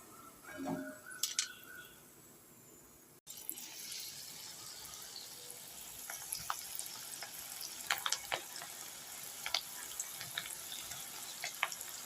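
Ragi pakoda frying in hot oil, a bubbling crackling sizzle with scattered pops, quiet and close, after a brief clatter of handling at the start.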